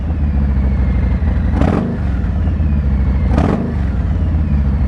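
A 2020 Harley-Davidson Low Rider S fitted with Reinhardt exhaust sits at a loud, close idle, then is blipped twice in sharp throttle revs that rise and fall back to the lumpy V-twin rumble.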